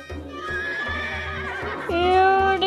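A horse whinnies in a long, wavering call that rises into a louder, brighter neigh near the end, with soft hoof clip-clop underneath.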